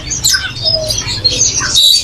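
Farm-bred captive yellow-capped finches chirp in a busy bird market, with bright overlapping tweets and twitters close by over a low crowd rumble.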